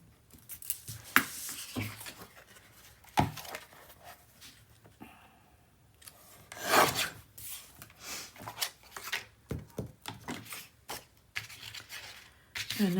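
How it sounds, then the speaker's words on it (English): Paper being trimmed for a scrapbook mini album page, with repeated scraping, rubbing and cutting strokes at close range. The strokes come in irregular bursts, and muffled handling noise runs between them. "this is going to need to be trimmed up just a little bit as well"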